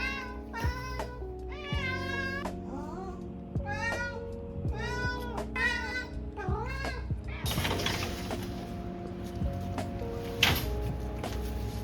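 A cat meows close by, about six drawn-out wavering cries in a row, followed by clattering household noises and faint background sounds.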